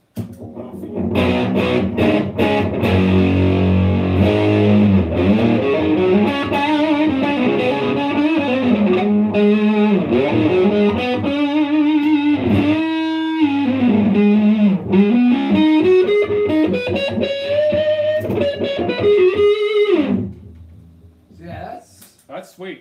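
Electric guitar played through a lead boost pedal paired with an EHX Crayon, giving a driven, distorted lead line with sliding, bending notes that rings loud and close for about twenty seconds before stopping.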